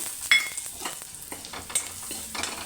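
Potato masala with fried onion and chilli spice sizzling in a pan, a soft steady hiss broken by sharp scraping and clinking strokes of a spatula stirring it, close and unaccompanied by speech.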